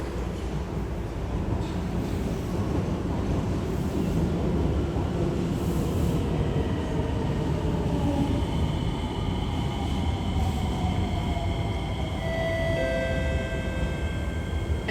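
An SMRT CRRC C151B metro train rumbles steadily into Tanah Merah station in Singapore, a broad continuous roar with rising whine tones emerging near the end as it slows.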